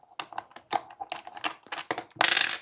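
Small screws are turned out of a paper planner to release its inserts, making a quick series of close, dry clicks and scratchy taps with a slightly louder rattle at the end.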